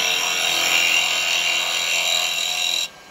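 A woodturning lathe turns a small pot as a 6mm carbide cutter scrapes the wood, a steady hissing, whirring cut that holds evenly then stops abruptly near the end, alone without talk.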